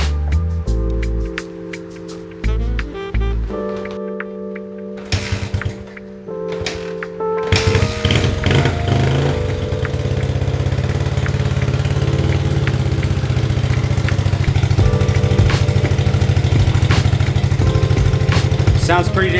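A 1981 Honda XR80 motorcycle engine, fresh gas in the tank, starts after a few short bursts of cranking and settles into a steady, loud, close idle that runs on alone.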